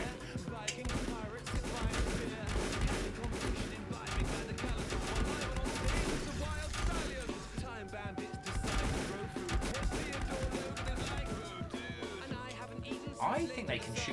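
Bursts of rapid enemy gunfire in the Volcanoids video game, dense overlapping shots and crashes running throughout, fairly loud, with someone talking over the action.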